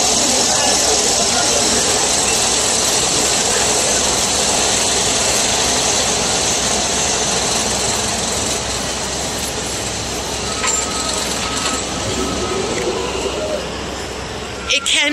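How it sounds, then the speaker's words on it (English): A roller coaster at Great Adventure hauls up its lift hill, a loud continuous mechanical rumble and rattle that holds steady throughout, with people talking over it. "there goes the lift hill. You can hear that going here"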